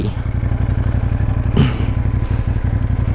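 A CF Moto 450 NK motorcycle being ridden at the start of a long ride to Abra, its engine a steady, close, pulsing drone with a brief louder clatter or thump midway.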